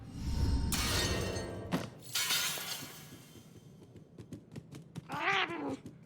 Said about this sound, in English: Where's my meow button?